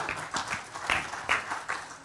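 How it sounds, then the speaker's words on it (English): Light, quiet applause from a conference audience after a talk, a handful of sparse, irregular claps at a distance with no voices over them. "A great applause to you, Venkata, for being here"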